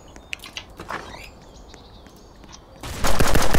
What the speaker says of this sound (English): There's a shooting.